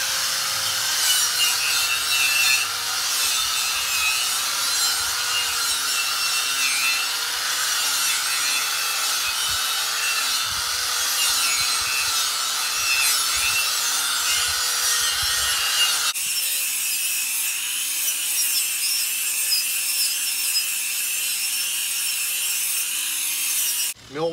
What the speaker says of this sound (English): So I'm gonna take that off with a wire wheel and a grinder just to get the bare metal.